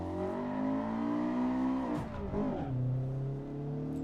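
A racing car in Assetto Corsa drones at high revs, a loud close engine tone that dips briefly as if shifting or lifting off, then holds steady again.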